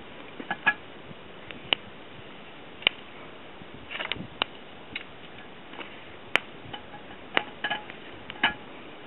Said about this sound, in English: So let's put the lid back on and hang over the fire.